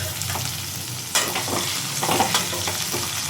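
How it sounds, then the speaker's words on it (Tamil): Curry leaves and green chilies sautéing in a pan for egg curry, a steady broadband sizzle with scraping stirs that swell in bursts around the middle, close and fairly loud with no talking. "கருவேப்பிலை, பச்சை மிளகா எல்லாத்தையுமே போட்டு நம்ம வதக்கிக்கணும்."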